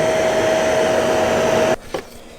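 A WeCreat Lumos compact laser engraver runs with a steady, loud whooshing whir and a thin high whine, then abruptly shuts off, leaving a brief clunk and quiet.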